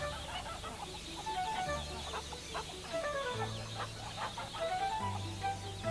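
Chicks peep as a sound effect on a 1991 children's story cassette set in a busy farmyard: repeated thin, high chirps over a low, steady background hum.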